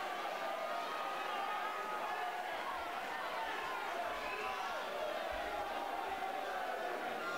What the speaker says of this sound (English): you can hear the crowd's response for both fighters immediately